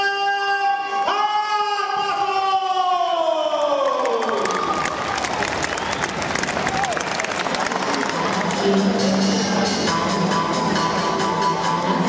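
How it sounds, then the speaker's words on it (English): A kickboxing event crowd erupts in loud applause and cheering as a fighter is introduced, following a ringside announcer's long drawn-out call; clapping and shouts fill the hall steadily to the end. "Let's give a big round of applause to Blake"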